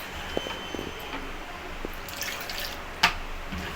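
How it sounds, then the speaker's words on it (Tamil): Small splashes and drips of water poured into a thick spice paste for mor kuzhambu, a few scattered wet plops and one sharper splash, close and quiet. "தண்ணி கொஞ்சம் ஆட் பண்ணிக்கிறேன்"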